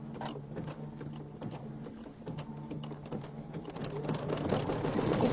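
A sewing machine stitching fabric while quilting a bench pillow, a steady mechanical hum with rapid needle clatter, fairly quiet, picking up toward the end.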